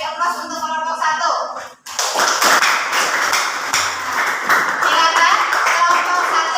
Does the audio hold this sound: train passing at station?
no